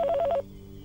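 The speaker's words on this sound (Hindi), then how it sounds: "स्पीकर फोन का बटन।" A telephone's speakerphone button pressed, giving a quick run of about four short electronic beeps in under half a second, then quiet hum.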